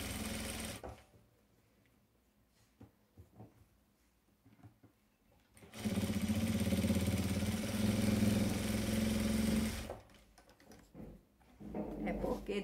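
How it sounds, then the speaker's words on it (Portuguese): Sewing machine stitching a zigzag patchwork quilt from the back: two sustained whirring runs of fast needle motor, with quiet handling clicks and pauses between them, close and moderately loud. "agora eu vou passar aqui o pezinho de máquina aqui atrás, no avesso"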